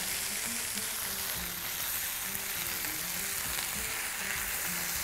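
Bell peppers and onions frying in a pan for Cantonese chicken, a steady close sizzle throughout with faint stirring clicks.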